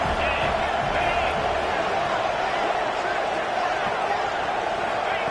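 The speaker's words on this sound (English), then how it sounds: "here comes the crowd noise" A large crowd roars continuously in a college football video game, a dense wall of cheering noise at steady volume with occasional swells, heard from within a stadium during a two-point conversion attempt.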